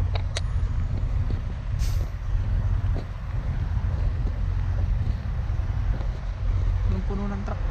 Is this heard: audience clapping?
no